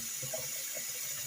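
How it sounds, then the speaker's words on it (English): Onions rinsed in a colander under a running kitchen tap, a steady close hiss of flowing water with faint soft splashes, continuous throughout the short moment. "I'm going to put them in this colander, and I'm going to give them a quick rinse"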